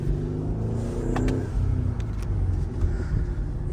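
A 670-horsepower all-wheel-drive sports car drives along a curvy road, its engine rumbling steadily from inside the cabin with a few brief louder pulls, no talk.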